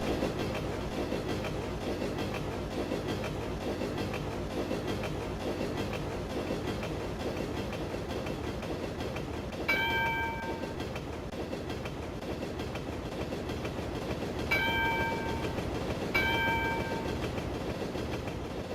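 Trains roll past in a train spotting video game with steady clickety-clack rumble throughout, broken by a few short tonal horn blasts near the end.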